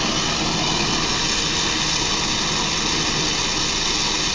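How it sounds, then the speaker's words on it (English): A National surface-mix glassblowing torch with a number 4 tip roars continuously, a loud, steady, jet-like broadband rush with no break throughout. "That's one thing about a surface mix, a chamber mix torch. Sounds like a jet engine."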